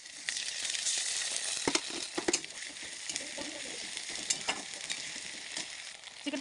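Onions fried with spice paste for a chicken curry give a steady close-up sizzle throughout, broken by sharp scraping clicks of stirring near the middle and again later.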